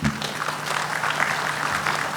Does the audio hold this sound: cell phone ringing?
no